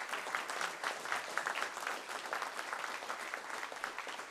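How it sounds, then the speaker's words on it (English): A crowd at an awards and scholarships ceremony claps steadily, a quiet but sustained wash of many hands with distinct individual claps standing out, continuing throughout. "give a warm welcome, round of applause"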